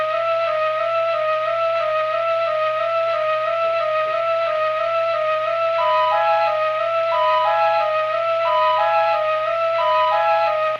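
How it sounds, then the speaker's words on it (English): A flute mellotron plays a slow, eerie repeating melody of sustained breathy tones with a steady low drone beneath, loud and alone throughout. "The flute mellotron sound. And it's just playing this little eerie melody on top of everything here."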